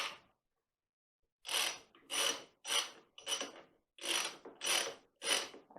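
A ratchet wrench clicks in seven steady bursts, near and fairly loud with pauses between, while bolts are tightened in a crisscross pattern on the rear brake of a Honda Recon ATV.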